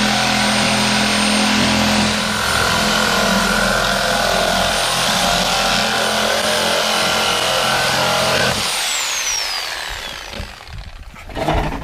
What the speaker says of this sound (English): Now we're going to go ahead and cut it off right here using the Sawzall